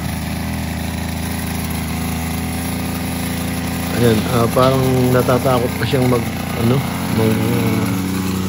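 A grass cutter engine runs steadily throughout, cutting grass outdoors, with a person talking over its continuous drone during the second half.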